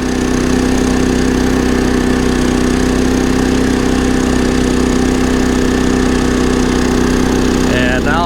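A Champion 3400 dual fuel inverter generator runs loud and close, holding a steady droning engine hum with a strong constant tone, and a brief rising whine at the very end.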